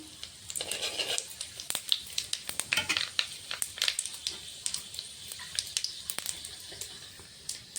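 Whole panch phoron seeds with a dried red chilli and a bay leaf crackle and sizzle in hot oil for lentils, with close, irregular spitting pops over a steady frying hiss.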